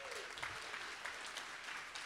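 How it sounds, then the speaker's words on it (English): Conference audience at a DevOps Days event applauding, a continuous even crackle of many hands clapping at moderate volume across the whole stretch, with no pause. "let's give a round of applause for DevOps Days"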